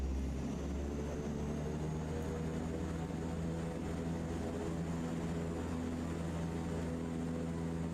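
Steady droning engine of a firefighting aircraft in Microsoft Flight Simulator 2024, a sustained propeller hum with constant tonal whine, even and moderately quiet with no talking.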